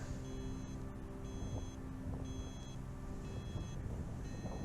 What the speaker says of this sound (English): Sorry, that beeping is a little annoying.